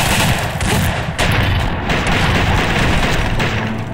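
Frag mine going off in Fallout 3, with loud, dense blasts and rattling bursts that fill the few seconds, heard at close range.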